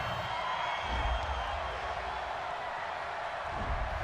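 A large stadium crowd at an NFL AFC Championship game, Jacksonville Jaguars against the Los Angeles Chargers, roars in a steady distant wash of disapproval after a roughing penalty flag, with a faint commentator voice underneath.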